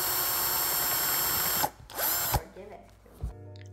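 A power drill whirs loudly and steadily as it bores into a coconut shell, then cuts out abruptly, followed by a few short bursts and clunks.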